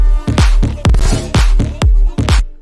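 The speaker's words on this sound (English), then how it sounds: "So without the mastering, it sounds something like this." An unmastered dance remix plays back in FL Studio, heavy booming kicks pounding in a steady four-on-the-floor beat with dense synth layers, loud and continuous.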